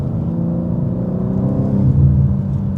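A BMW M car's engine pulls hard under acceleration while driving, a loud steady low drone heard from inside the cabin that swells slightly toward the end, with no talking.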